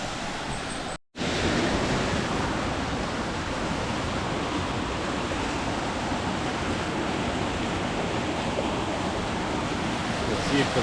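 Small jungle waterfall near Batu Caves, Kuala Lumpur, gives a steady close rush of splashing water that fills the whole clip, broken only by a brief dropout near the start.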